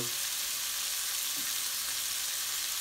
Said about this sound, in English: Now, I'm going to give them another stir.